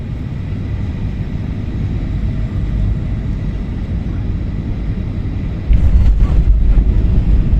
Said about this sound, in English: here's my Ryanair plane landing